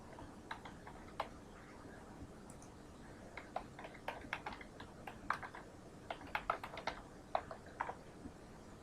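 Someone types router commands on a computer keyboard, with sparse key clicks at first that speed into a quicker run of close, crisp taps with short pauses between them.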